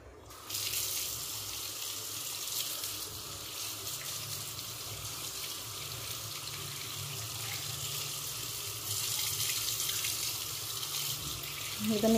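Water runs steadily from a tap into a sink while something is washed, a continuous close hiss and splash that swells slightly near the end.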